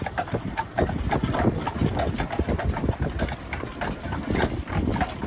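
Large draft horses weighing 2,200 to 2,600 pounds clop steadily on hard ground, hooves striking in a dense, continuous rhythm up close, with an engine rumbling low underneath throughout.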